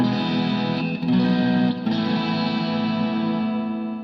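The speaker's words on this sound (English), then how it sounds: "even in overdrive, you can still hear every note." A distorted electric guitar holds a thick, sustained chord with a couple of shifts, ringing loudly before slowly fading.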